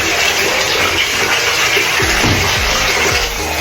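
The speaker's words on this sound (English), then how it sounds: "this is the cold water rinse part of everything now" Cold water runs hard and steadily from a shower while it rinses thick, curly hair, a loud continuous hiss with a few soft splashing thumps near the end and no talking.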